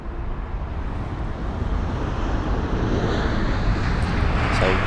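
Lufthansa Airbus A320neo registered D-AIJC, a two-year-old jet arriving from Frankfurt, makes a steady broadband engine roar with heavy wind rumble, continuous and fairly loud throughout the whole stretch.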